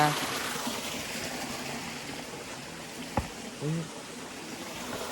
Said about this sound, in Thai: นี่น้ำตกเนี่ยสวยมากๆนะ